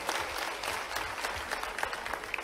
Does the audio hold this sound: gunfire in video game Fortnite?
no